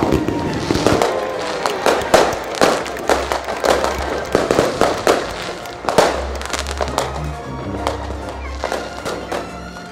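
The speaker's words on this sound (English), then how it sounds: "Well, these fireworks look so beautiful" Fireworks burst in a rapid series of sharp, cracking bangs and thumps, some overlapping, with an uneven rhythm across the whole stretch and no talk over them.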